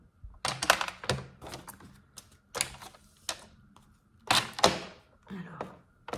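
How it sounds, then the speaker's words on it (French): A paper trimmer scores fold lines on a large piece of card for a Christmas Toblerone gift box, giving several sharp thunks and sliding scrapes in an irregular rhythm, close and moderately loud with no talk. "on va commencer par marquer les plis sur le grand morceau à l'aide de notre massicot"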